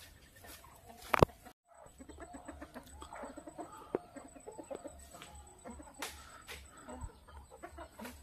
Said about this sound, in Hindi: ये रहे सारे मुर्गी।